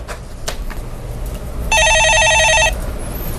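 A telephone in a live stock-market call-in broadcast studio rings once with a loud, bright electronic trill lasting about a second, after a few faint clicks and a quiet room hum.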